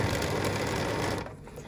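A BERNINA sewing machine runs a long basting stitch along a pant hem, a fast, steady mechanical chatter close by that stops abruptly at the end.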